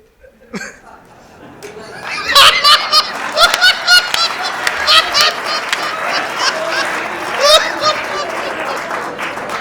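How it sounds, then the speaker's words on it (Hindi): Crowd applause at a Hindi poetry show rises after a brief pause into bursts of clapping mixed with laughter and whoops, with a voice talking over it. "तो तालियां बजाया करो, देखो आनंद।"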